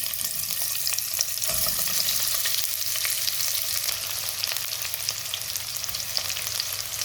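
Onion frying in olive oil in a home kitchen pan, a steady close crackling sizzle that runs continuously with faint stirring scrapes and no talk.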